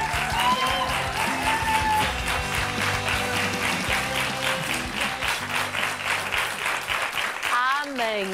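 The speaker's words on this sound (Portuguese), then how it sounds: "Uma salva de palmas" A crowd applauds a band on a live TV afternoon show with sustained, dense clapping over music, with voices speaking on top of it; the applause fades near the end.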